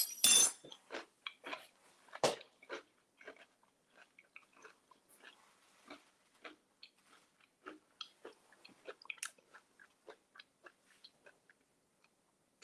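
Crunchy parfait with pumpkin seeds and cinnamon toast crunch cereal being chewed up close, a run of quiet, irregular crisp bites and crunches with short pauses between them.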